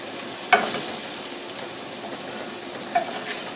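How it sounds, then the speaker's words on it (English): Liver frying in grease in a pot, a steady broadband sizzle at moderate level with two brief sharper pops or spatters, one early and one near the end, and no voices. "when I get the rest of this liver fried up"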